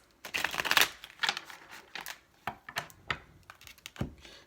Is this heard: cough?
no